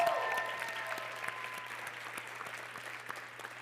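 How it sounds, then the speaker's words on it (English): Audience applause after a talk at an event, a steady wash of many hands clapping at moderate volume, fading slightly over a few seconds with no voices on top. "Give him one more round of applause."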